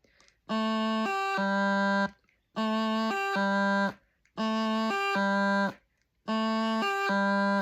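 A bagpipe practice chanter plays four short reedy phrases, each a quick high G grace-note flick from low A landing on a sustained low G, separated by brief pauses.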